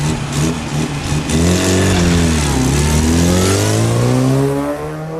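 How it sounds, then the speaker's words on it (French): A 1975 Innocenti Cooper 1300 race car with a heavily prepared 1293 cc engine revs hard and loud at close range, its pitch rising and sweeping steadily for several seconds at a historic hill-climb event. "cette Innocenti Cooper 1300 de 1975, moteur 1293 cm3, grosse préparation également"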